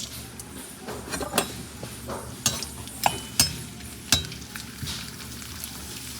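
Papads frying in hot oil in a pan, a close crackling sizzle broken by several sharp clinks and scrapes of a utensil against the pan, no voices.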